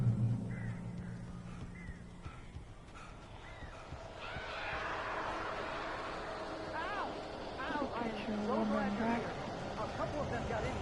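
Birds cawing and squawking inside a cabin in the video game Alan Wake, several harsh calls scattered over a quiet, eerie background, with a voice speaking briefly before them.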